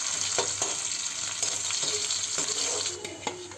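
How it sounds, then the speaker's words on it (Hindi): Chopped onions sizzle in hot oil in a kadhai, a dense steady frying hiss close by, broken by soft scraping stirs. "तेल गर्म हो गई तो मैं डाले हूँ प्याज काट के रखे रहे होला तो मैं अच्छा से भून लूँ प्याज ला"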